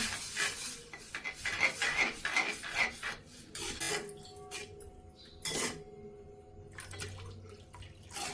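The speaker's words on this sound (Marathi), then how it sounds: "आता चांगलं मिक्स करून घेऊया" A spoon scrapes and clinks against a pot while stirring rava kheer sweetened with condensed milk, making soft, irregular scraping and a few light metallic taps close by with no talking.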